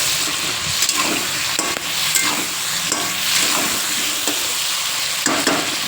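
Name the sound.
potatoes and long beans frying in pan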